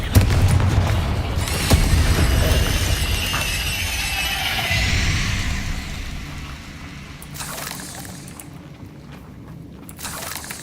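Confringo blasting spell detonating in Hogwarts Legacy, a loud booming burst with crackling debris that rumbles on for several seconds, followed by fainter crunchy impacts.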